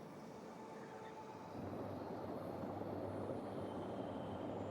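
A train rolls along in a video game as a faint, steady low rumble that thickens partway through, with a soft distant hum and no voices.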